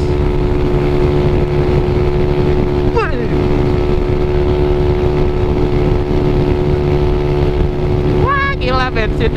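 Yamaha Mio Sporty scooter with a Michelin drive belt ridden flat out: a loud, steady high-revving engine drone with wind rush throughout, close to the rider, with a short whistly rise in pitch near the end.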